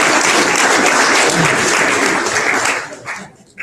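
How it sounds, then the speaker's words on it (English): A banquet audience claps for five finalists, a dense, loud wash of applause that holds steady for about three seconds before thinning out and fading. "Round of applause for all 5 of them."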